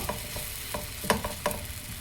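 Thick batter lands on a hot, oiled tawa over a medium flame and sizzles continuously, with a few soft taps and scrapes punctuating the close, steady frying hiss.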